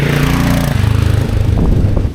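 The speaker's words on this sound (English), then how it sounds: "Very lovely sound with the homemade exhaust, link pipe stuff." A 1985 Yamaha XT600 single-cylinder motorcycle idles with a homemade exhaust and link pipe, giving a steady loud thumping putter that shifts to a slightly lower, lumpier rhythm partway through, close and alone.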